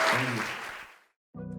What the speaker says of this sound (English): Everyone give a round of applause for Everette today.